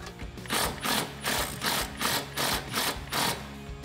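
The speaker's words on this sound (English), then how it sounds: "now we're gonna remove the 18 millimeter nut holding the top of our sway bar" Ratchet clicking in a steady back-and-forth rhythm, about seven bursts, as it loosens the 18 mm nut at the top of the sway bar on a 2005-2014 Mustang GT, close and clear with no talk.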